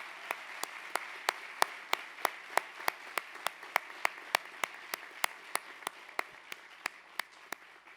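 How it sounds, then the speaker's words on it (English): An audience at a fire academy graduation ceremony claps for the graduating class, a steady run of sharp hand claps at a moderate distance in a hall, fairly sparse and rhythmic, with no talk. "I would ask that you all join me in giving applause for the students of"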